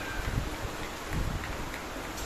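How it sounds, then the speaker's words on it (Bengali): Rain falls at night in a steady, even wash of patter, constant and fairly soft, with no voices. "আর এই যে রাতের বেলায় এখন বৃষ্টি শুরু হয়েছে।"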